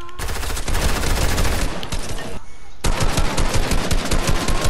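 Gunfire in a Fortnite battle, loud rapid automatic bursts with dense repeated shots, a brief lull, then more fast firing.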